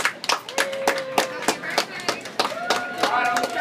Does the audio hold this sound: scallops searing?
no